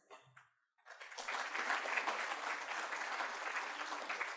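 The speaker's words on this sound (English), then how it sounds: "Please join me in welcoming him with a big round of applause." An audience at a university inauguration event breaks into steady, dense applause to welcome a speaker, rising after a short quiet moment and holding at a moderate level.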